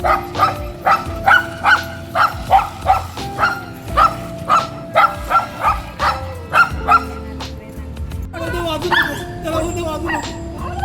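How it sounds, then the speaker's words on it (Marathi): A dog barks repeatedly during Diwali in a quick, steady rhythm of sharp yips, close and loud, then shifts to higher whining yelps near the end. "कुत्रा इथं भुकलेलं आहे"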